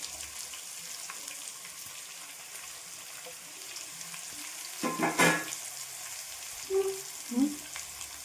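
Chopped onions sautéing with salt in a pan, a soft steady sizzle with a brief burst of scraping and stirring midway and a couple of short clinks near the end, no one talking.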